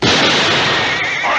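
A single loud gunshot cracks close by at a Western ranch standoff. The blast is followed by a long, dense roar that fades slowly.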